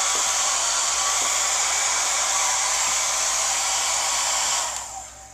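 A hair dryer blows steadily and loudly to dry fine marmorino Venetian plaster, a constant close whoosh that cuts off near the end.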